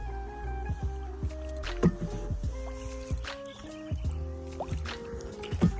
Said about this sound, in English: One-handed paddling the canoe, chasing my bear on Father's Day.